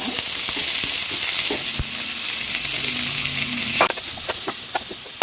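Onions hiss and crackle steadily as they fry in hot oil in a pan for masala pasta, a loud, close, continuous sizzle with a few utensil knocks near the end.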